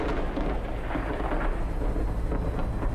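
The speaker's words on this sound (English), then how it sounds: "Where's that storm coming from?" A thunderstorm in the Sons of the Forest video game, with a broad rumbling roar of thunder mixed with rain hiss, steady and loud across the whole stretch, no voices present.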